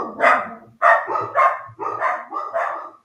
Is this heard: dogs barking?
yes